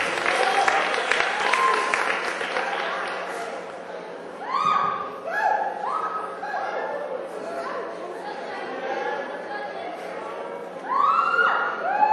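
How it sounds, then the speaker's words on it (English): Audience applause for a solo spoken-word performer at a school event, clapping and cheering at the start that fades into chatter and a speaking voice, with a brief swell of clapping near the end. "We can have a round of applause for her."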